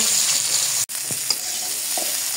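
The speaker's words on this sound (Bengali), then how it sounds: "ডিম ভাজা তেলের ভিতরে ফুলকপি ভেজে নিব।" Cauliflower frying in oil left over from frying eggs, a steady close sizzle with a few soft stirring clicks and a brief dropout partway through.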